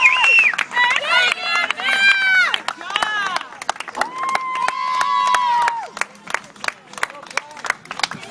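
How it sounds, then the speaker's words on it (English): A crowd roars and cheers at a game after a five-to-three Pride win, a loud sustained swell with shouting voices and scattered claps running throughout. "Crowd is going wild."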